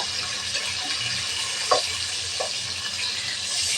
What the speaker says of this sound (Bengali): মাছটা হালকা ভেজে নেব